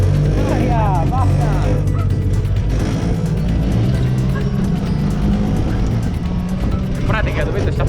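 A Piaggio Ape three-wheeler drives along with a loud, steady low engine drone close by. Voices talk over it at times.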